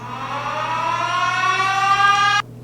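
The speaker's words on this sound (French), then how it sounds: "Ça, c'est la sirène." A rising, wailing siren effect from DJ software with a rich tonal drone climbs steadily for a couple of seconds and then cuts off abruptly.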